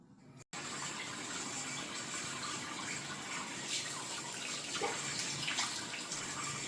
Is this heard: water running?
yes